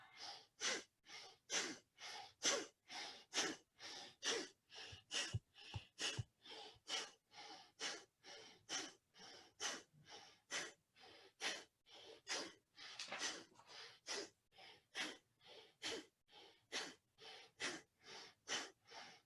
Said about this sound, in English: add breath of fire here